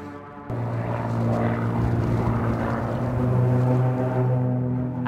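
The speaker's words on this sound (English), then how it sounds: "I also hear a plane right now," A propeller plane drones steadily overhead, a loud continuous engine hum that holds for several seconds without fading.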